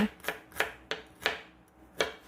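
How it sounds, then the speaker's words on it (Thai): A knife slices red shallots on a cutting board for squid larb, giving six crisp separate chops at an uneven pace, close and clear with no talk. "ซอยหัวหอมแดงสองสามหัว"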